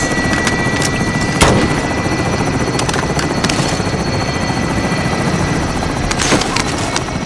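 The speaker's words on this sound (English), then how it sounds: "Helicopters exiting the AO." In a video game, a helicopter's steady rotor roar fills the scene, with sharp bursts of gunfire cracking through at a few moments.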